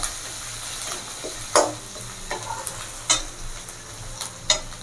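Cumin seeds, grated ginger and green chilli fry in a pan with a continuous sizzle, while a spoon stirs and knocks against the pan in scattered sharp clinks, close by.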